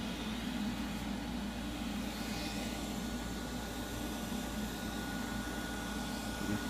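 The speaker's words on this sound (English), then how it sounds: "got fans blowing on the motors" Fans blowing on motors make a steady, faint broadband whir with a low hum, constant and unbroken from start to finish.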